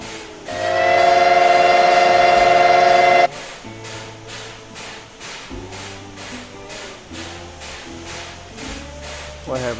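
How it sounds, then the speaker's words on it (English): A loud sustained locomotive horn blast, then a train locomotive's air compressor chugging in steady rhythmic pulses, fairly close and continuous. "Look how you hear the air compressor on this one."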